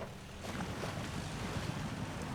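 A modded truck in the SnowRunner video game drives into a big, deep puddle of water, giving a continuous, fairly faint rush of sloshing water and wind-like noise.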